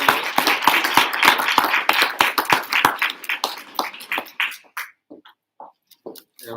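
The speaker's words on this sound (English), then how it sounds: "Let's give the candidates a round of applause for their participation tonight." Audience applause for school board candidates at a community schools candidate forum, a dense burst of many clapping hands that thins out into a few scattered, fading claps.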